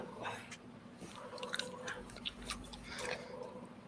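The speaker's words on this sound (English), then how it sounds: "It makes noises like you're chewing on a rubber bouncy ball." Rubbery queso blanco cheese being chewed close to the mic, soft squeaky bites and mouth crunches repeating over a faint steady background hum, quiet and without speech.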